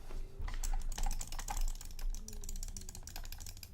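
Rapid clicking from a Deathadder gaming mouse, a notably clicky set of buttons, sounding as a steady stream of close, crisp taps that run continuously with only brief lulls.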